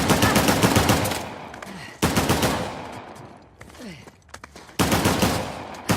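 Loud, close automatic gunfire in the game Uncharted The Lost Legacy comes in sustained rapid bursts, stops briefly, then resumes, with scattered shots and clatter in the gaps.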